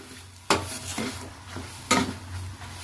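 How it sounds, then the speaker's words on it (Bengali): A spoon stirring and mashing a banana stem and prawn mash with raw mustard oil in a pan, two sharp scraping knocks against the metal over a low background sizzle. "এই সময় একটু কাঁচা সরষের তেল দিয়ে দেবো আর একটু ভালো করে এটা মাখিয়ে নেব।"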